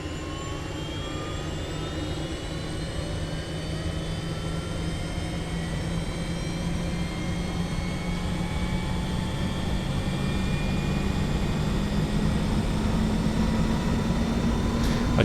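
The engine of a Cowansim 500E helicopter in Microsoft Flight Simulator runs up during start, a steady, dense turbine roar with rising whine tones. It holds loud and continuous, alone and without talk.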